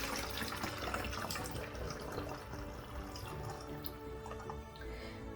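Room-temperature water, about 1.5 cups, pours steadily into a container for a homemade disinfecting spray, a continuous close splashing stream running alone without a break.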